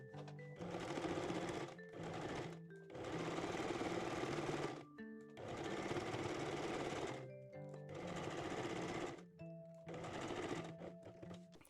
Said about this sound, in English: Now we can stitch both side seams and also the crotch one.